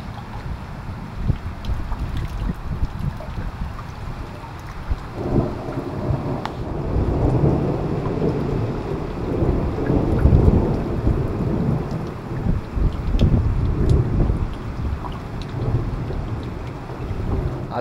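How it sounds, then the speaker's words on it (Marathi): Heavy village rain pours down steadily with deep rolling thunder rumbling through the middle of the clip, loud and close, with wind noise and no voices. "खूप मोठा पाऊस पडतो आहे, वीज पण होते."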